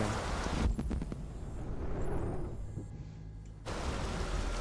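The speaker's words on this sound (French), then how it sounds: "Perso, je préfère ce son de pluie." Steady rain ambience from the video game Detroit: Become Human, a dense, even wash of falling rain that briefly thins and softens midway before returning at full strength, with no voices.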